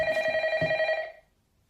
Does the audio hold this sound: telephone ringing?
yes